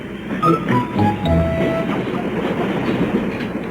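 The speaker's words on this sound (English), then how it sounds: "Here, stop that train!" A train rolls along the tracks with a steady rumbling clatter, louder at the start as wheels click and brief squealing tones ring out, then settling into a continuous mid-distance roar.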